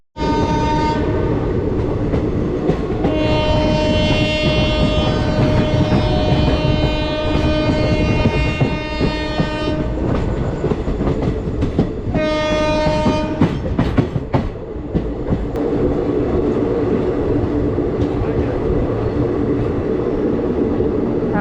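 The Shaktipunj Express pulls into Asansol Junction with a long, loud, close horn blast that sounds twice, over continuous rumbling wheels and clattering rail joints.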